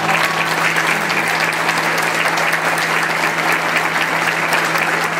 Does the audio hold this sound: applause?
yes